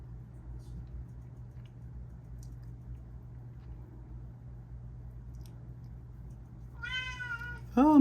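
A big pet cat meows near the end, two short harmonic cries coming in over quiet background hum after a long stretch of near silence.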